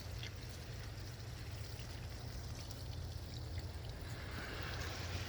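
Garden hose watering cucamelon and cucumber plants outdoors, a steady close rush and patter of water onto leaves and soil, continuous and fairly loud with no talk.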